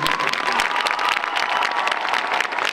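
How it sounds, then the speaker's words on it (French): Audience in a large hall at the Zénith, during the 2018 Drepaction charity event, clapping loudly: a thick, sustained roar of applause that stays steady and strong throughout. "Applaudissez très très très fort, s'il vous plaît."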